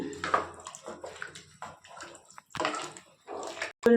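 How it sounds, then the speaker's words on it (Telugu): Water pours and splashes into a pot of aloo mutton khurma in short, close bursts, with gurgling and brief pauses between pours. "ఇక్కడ ఆల్రెడీ వాటర్ ఉంది. నేనైతే ఇంకొంచెం లైట్గా పోసుకుంటున్నాను"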